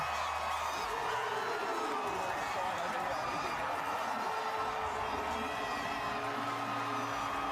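A rugby stadium crowd cheers and roars continuously, a dense loud wash of voices with whoops, while an excited commentator talks over it.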